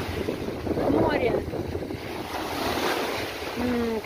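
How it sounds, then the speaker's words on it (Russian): Sea waves and wind at a beach in Turkey, a continuous roar of surf and gusting wind buffeting the microphone, loud and close, with faint voices in the background. "Эти волны"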